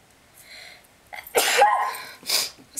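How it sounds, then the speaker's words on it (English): A person sneezes once, a loud sharp burst after a short breathy intake, followed by a second fainter exhalation; no talking during it. "I feel like I'm gonna sneeze."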